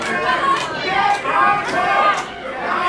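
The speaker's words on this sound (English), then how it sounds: "He's still arguing with the crowd." Wrestling crowd at an independent show shouting and jeering at the wrestlers, a dense wash of overlapping voices with louder yells rising every half second or so, steady and close throughout.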